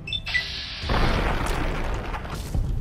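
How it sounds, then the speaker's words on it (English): A shotgun blast in Fallout New Vegas lands after a brief high tone: a heavy, loud boom that swells into a sustained rumbling roar for about two seconds, with no speech over it. "I think it's shotgun time."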